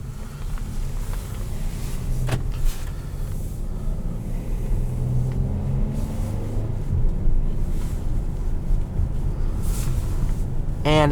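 Interior of a 2018 Honda Odyssey EX-L minivan on the move in sport mode, a steady low road and engine rumble with tire hum, even and moderately loud with a brief thump partway through.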